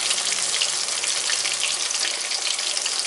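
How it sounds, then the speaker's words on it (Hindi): Pieces of fish sizzle in hot oil over a medium-low flame, a dense, steady crackling hiss that runs close and loud throughout with no voices. "ऑयल को मीडियम से लो फ्लेम पे जो है पहले गरम किया, फिर उसमें मैंने पीसेस डाल दिए।"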